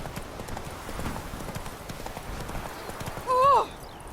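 Horse hooves clip-clop at a steady trot in The Witcher 3: Wild Hunt, fairly soft and even, with a short whinny rising near the end.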